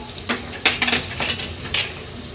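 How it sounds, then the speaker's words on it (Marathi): Green chilli, curry leaves and white sesame seeds sautéing in a pan with a spoon stirring, giving short scraping clinks and a few brief bursts of sizzle, close and moderately loud with no talking. "अगदी थोडंसं ह्याला परतून घ्यायचं आहे"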